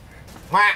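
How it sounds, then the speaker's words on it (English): A duck quacks loudly and close by in one harmonic burst near the end, after a short spoken word and light wind noise. "see whether he's still quacking"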